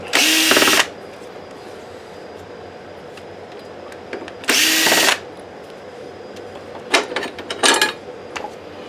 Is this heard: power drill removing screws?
yes